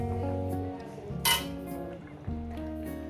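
A lid goes onto a cooking pan of fish curry simmering with taro stems, giving a bright metallic clink and a second softer clatter over a low kitchen hum.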